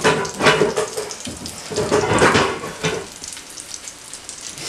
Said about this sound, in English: Wow, it's frying quickly, you know.